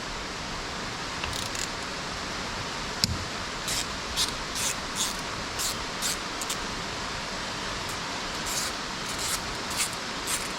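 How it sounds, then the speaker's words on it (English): Steady rain falls outside a garage, a constant hiss of drops with occasional faint taps and rustles layered over it, no voices present. "It's raining, which we really need."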